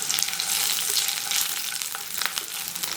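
Garlic, shallots and ginger fry in hot coconut oil in a pan, a dense, loud, continuous crackling sizzle close by with small bursts of popping.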